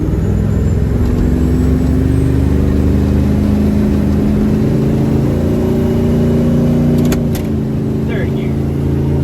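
Procharged LS3 truck accelerating in second gear, a steady loud engine note climbing in pitch for several seconds before easing off, heard from inside the cab with talk over it.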